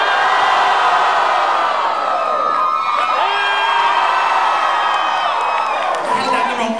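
A Comic-Con convention crowd in San Diego screams and cheers loudly in unison, a dense sustained roar of many voices with whoops rising over it throughout.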